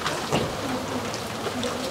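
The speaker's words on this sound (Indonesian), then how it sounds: "suasana juga mendukung, Wonosobo dingin-dingin gitu, ini apalagi gerimis." Light drizzle falling in cold weather at a roadside rice-and-tempeh food stall in Wonosobo, a steady soft wash of patter with faint scattered drops, no voices.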